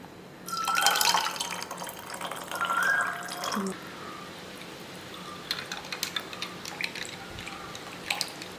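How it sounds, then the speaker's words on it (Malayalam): Water pours into a homemade sarbath drink with mint leaves and lemon slices, two bursts of steady trickling and splashing around the first four seconds, followed by faint drips and small clinks in a quiet kitchen. "ഇനി നമുക്കിതിലേക്ക് വെള്ളം ചേർത്ത് കൊടുക്കാം"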